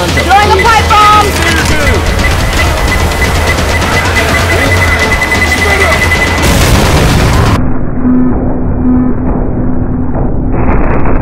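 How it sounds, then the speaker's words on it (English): A pipe bomb detonates in a zombie-shooter video game, with loud booming blasts and gunfire-like bursts filling the first seven seconds before the mix drops to quieter game sounds. "sons of throwing a pipe bomb!"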